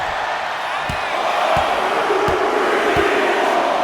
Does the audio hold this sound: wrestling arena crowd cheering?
yes